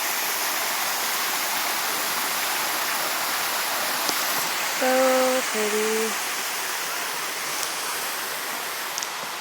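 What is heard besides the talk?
waterfall in El Yunque tropical rainforest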